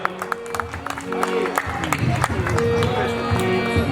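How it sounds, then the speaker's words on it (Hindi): Audience at an outdoor Ramlila performance clapping to welcome arriving guests, scattered claps building into fuller applause with crowd murmur and a voice talking over it, moderately close. "जोरदार तालियां हो जाए"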